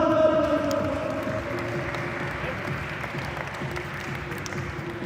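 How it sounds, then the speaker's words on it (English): An audience at a youth climbing competition applauds a climber, a moderate wave of clapping that starts strongest and slowly tapers, with a steady hum and some distant crowd noise beneath. "Let's give him applause, everybody."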